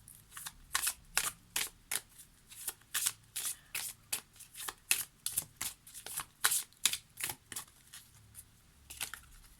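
Oracle cards being shuffled by hand, a rapid string of crisp riffling slaps and flutters repeating roughly twice a second, close and fairly quiet, with no talking over it.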